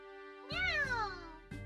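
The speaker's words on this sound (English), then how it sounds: "Meow!" A single cat named Anton gives one clear, rising-falling meow in the Trails in the Sky SC video game, followed by a brief second sound starting at the end.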